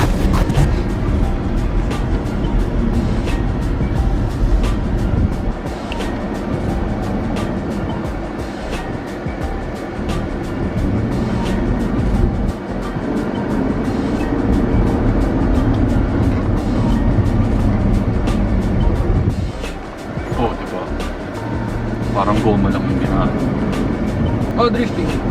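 Jeep Gladiator Rubicon pickup sliding and revving off-road on loose ground, a loud continuous engine roar with surging bursts and rough tire noise, with people talking and exclaiming over it throughout.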